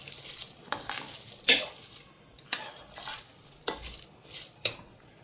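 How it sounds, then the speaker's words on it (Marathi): Soaked rice is stirred into a boiling chicken pulao, with a soft bubbling simmer broken by about six evenly spaced scraping and clinking strokes of a spoon in the pot, close and with no talk. "आता याला उकळी आली मी याच्यात हे तांदूळ टाकून घेते"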